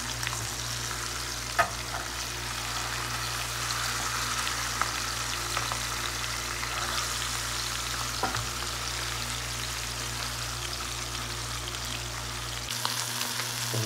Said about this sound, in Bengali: মাছ আমাদের হালকা ভাজা হয়ে গেছে, আর একটু ভেজে নেবো আমরা মাছটাকে।